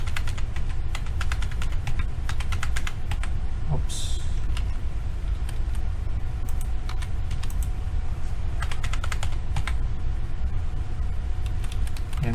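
Rapid, steady clatter of keys on a computer keyboard during a Revit architecture modelling session, close and continuous, with someone briefly speaking and faint mouse clicks mixed in.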